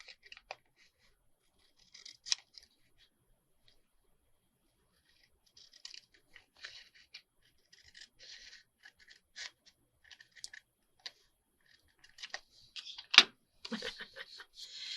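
Scissors trim pieces of paper up close in a quiet room: sparse, crisp snips come singly and in short bursts with silent gaps between them, and one louder cut stands out near the end.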